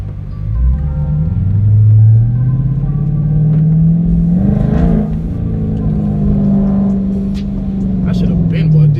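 A 2016 Dodge Charger RT+ with a straight-piped quad-tip exhaust booms loud and close, a deep rumbling roar that climbs in pitch through a hard pull and holds high, with traffic around.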